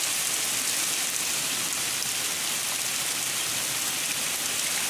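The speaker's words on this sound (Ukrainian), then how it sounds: "Ліпить дощака, капець." Heavy rain pours steadily outdoors over a garden pea patch in western Ukraine, a dense continuous hiss close and loud with no voices.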